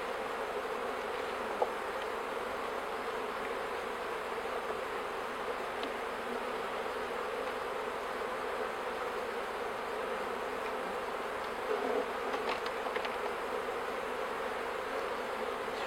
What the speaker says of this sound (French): Donc ça, c'est une abeille de race Buckfast.